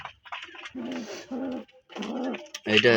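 A Kaldom pigeon coos nearby in a series of soft, throaty, rolling calls with short gaps between them, clear and close.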